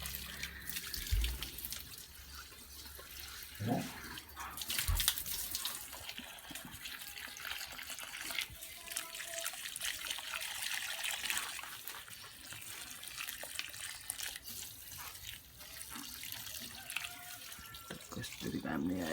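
Water poured onto houseplants, a continuous close trickle and splash running steadily throughout, with a few thuds of pots being handled.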